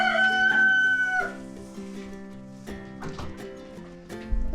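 A rooster crows loudly and close by on a small farm with goats, a long drawn call in the first second, followed by quieter clucking and fowl noises.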